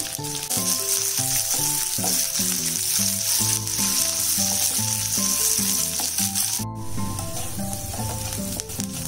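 Cinnamon, cloves and poppy seeds roast in a pan with a soft, steady sizzle and occasional stirring, mostly buried under loud background music.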